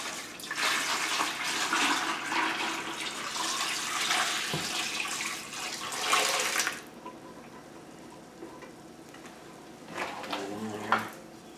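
Mixed muscadine wine ingredients are poured into a bucket, a loud gushing, splashing pour for several seconds that stops abruptly, followed by quieter trickles and a brief final splash.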